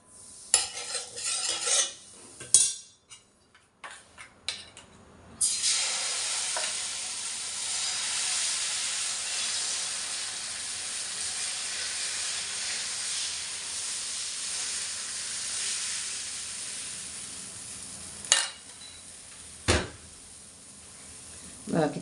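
Chila batter cooks in a little oil in a pan, giving a steady soft sizzle and hiss with a few scraping and clinking utensil sounds near the start and end.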